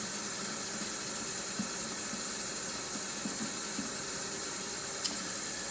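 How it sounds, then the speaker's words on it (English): Water running steadily from a tap into a sprayer being filled for cleaning indoor evaporator coils, a constant broadband hiss with no talk. "And I go ahead and fill it up with water."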